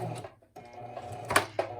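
A sewing machine back stitches along the edge of a fabric patch pocket, a steady close mechanical whir that pauses briefly and then resumes, with small clicks toward the end.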